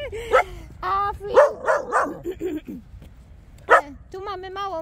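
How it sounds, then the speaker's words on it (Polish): Several dogs bark, yip and whimper excitedly while running around outdoors in a forest, loud and close in irregular bursts. "Pieski trochę się wyganiają"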